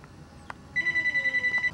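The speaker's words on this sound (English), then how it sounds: "Let me get the phone." A telephone rings nearby in a workshop, giving a steady electronic trilling ring that repeats in quick regular pulses after a brief click, with no talk over it.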